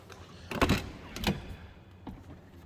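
Two quick mechanical thunks close together, then a fainter click, as the power windows and power locks actuate in the quiet interior of a 1995 GMC Sierra 1500 pickup.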